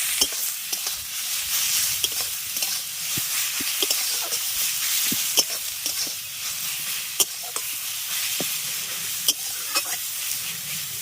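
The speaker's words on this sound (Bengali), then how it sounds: "দিয়ে দিচ্ছি গ্রেট করে রাখা লাউ লাউটা দিয়ে আগে লাউটাকে একটু ভেজে নেবো" Grated bottle gourd fries with black cumin in a pan, a steady hissing sizzle with scattered sharp clicks and taps of a stirring spoon, close and continuous.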